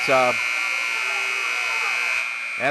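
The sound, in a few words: basketball scoreboard buzzer going off in gym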